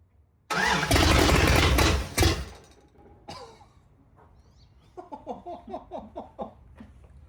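A 408 stroker V8 truck engine cranks and roars to life loudly on its first start, then settles into a lower rumble while faint voices and a short laugh follow.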